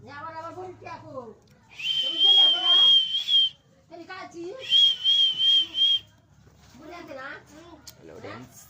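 A pet bird whistles in long, bright, steady calls, two clear stretches, with a person talking before, between and after them.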